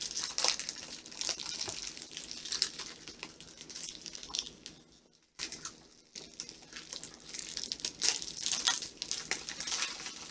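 Cardboard seam of a product box for a Mercury Elite Pro Dual drive enclosure being broken and peeled open by hand, close crinkling and tearing with a brief pause midway before the rustling resumes.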